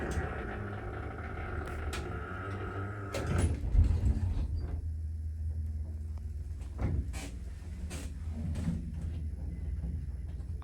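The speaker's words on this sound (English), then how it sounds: "Door got jammed for a second." A vintage Haughton traction elevator door slides with a mechanical rumble and a thud partway through, followed by quieter clunks and mechanism noise in a quiet lobby.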